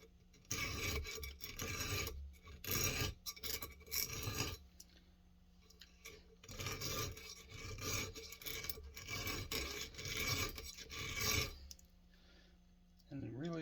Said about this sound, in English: I take the ring and just start filing it.